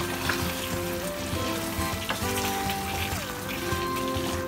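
Lemon herb chicken drumsticks sautéing in a pan give a steady, dense sizzle with occasional soft stirring scrapes, close and continuous throughout.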